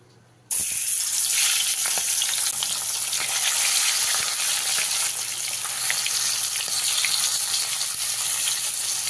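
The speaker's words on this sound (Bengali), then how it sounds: "এবারে এর মধ্যে একে একে মাছগুলো দিয়ে ভেজে নেব।" Tilapia pieces slipped one by one into hot oil, bursting into a loud, continuous crackling sizzle that starts abruptly and holds steady, close and alone with no voices.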